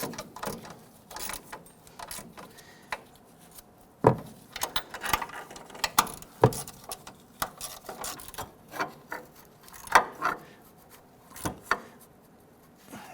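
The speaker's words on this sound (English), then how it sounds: "Go ahead and run those nuts down the rest of the way by hand to bottom them out." Nuts threaded by hand onto shock absorber studs of a 2005-2021 Nissan Frontier, with irregular metallic clicks, scrapes and small clanks scattered across the clip, close and fairly quiet.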